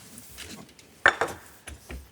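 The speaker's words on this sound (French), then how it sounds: "On va prendre une petite poêle." Small pan being handled in a kitchen while cooking mussels: a few metallic clanks and knocks spread across the moment, close and fairly crisp against a quiet background.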